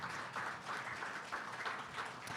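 An audience at a public talk gives a faint, distant round of applause, soft and sparse clapping lasting a couple of seconds.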